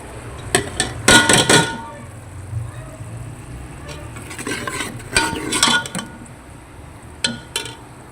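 Onions with garam masala, salt, turmeric and red chilli fry in a pan under repeated bursts of stirring and scraping against metal, with a soft sizzle between the strokes.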